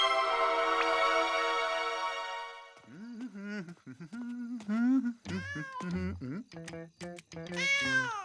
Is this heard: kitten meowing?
yes